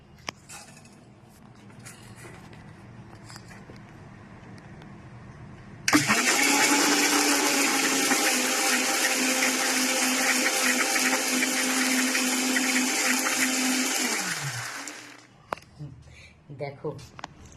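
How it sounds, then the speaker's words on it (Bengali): A kitchen mixer grinder (mixie) switches on abruptly and runs for about eight seconds with a loud, steady, high-pitched whirring roar. It then winds down and stops, with faint background sounds before and after. "আমি চালাবো এবার মিক্সি মেশিন।"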